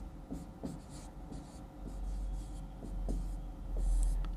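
A pen scratches across paper as someone writes by hand, a soft, close scribbling over a low steady hum.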